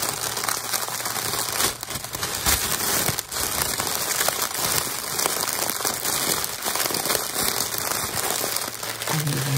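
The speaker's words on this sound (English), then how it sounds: "lovely crinkles" Plastic and paper packaging from a mailed parcel crinkles and crackles close up in a dense, continuous stream of sharp rustles and pops, with occasional louder crunches and no speech.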